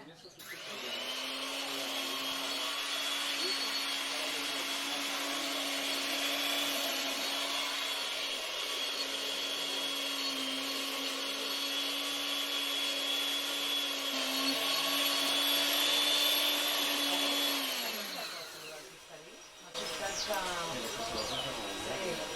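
An electric spice grinder runs steadily for a fine grind of Ras el Hanout, a Moroccan spice blend, giving a loud, constant whirring hum that slows and winds down near the end, with a brief restart afterward.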